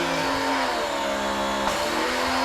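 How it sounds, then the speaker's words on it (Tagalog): A Kawasaki HPB 302 pressure washer engine, faulty because its auto on-off fails and it keeps running after the trigger is released, drones steadily and close by with a changing pitch midway. "kita mo umaandar pa rin ang makina"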